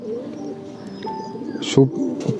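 English Nun pigeons coo softly close by, low throaty calls among a few chirps, with someone speaking over them.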